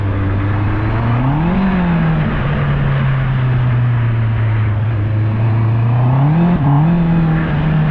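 A car engine rises from idle as a driver presses the accelerator, a steady loud drone that climbs in pitch twice, with a faint rumble of road noise under it.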